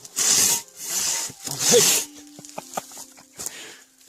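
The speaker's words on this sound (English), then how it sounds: "I'm exerting no energy with this. Just letting the saw do the work." A large 650 mm Katanaboy folding saw rasps through a wooden log in a few long strokes, close and fairly loud at first before thinning into lighter scraping and small knocks.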